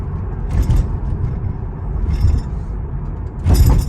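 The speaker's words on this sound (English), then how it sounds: "that rattle sound is from the tools that's sitting right here in the passenger seat" Low road rumble inside a moving Mercedes SL500, with a few brief bursts of light rattling and clatter at intervals from tools on the passenger seat, close by.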